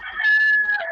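A single loud chicken call, close by, rising and held for about a second.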